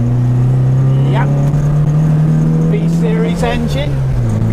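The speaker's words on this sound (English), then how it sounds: "B-Series engine, which harks back from 1947, and very, very nice." A 1977 MG B roadster with its B-Series engine drives on airfield tarmac, a loud steady engine drone close up with small shifts in pitch, while someone talks over it.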